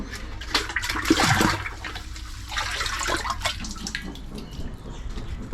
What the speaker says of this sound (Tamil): இப்போ இதுக்கு தேவையான அளவு தண்ணி எடுத்தாச்சு